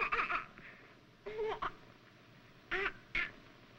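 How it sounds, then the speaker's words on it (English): Seagull cries serve as a sound effect in an old radio drama: four short, raspy squawks arrive in two pairs against a quiet hiss. "What's that? That's a seagull."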